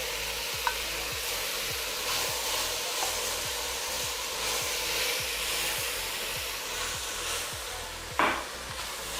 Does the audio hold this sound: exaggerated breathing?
no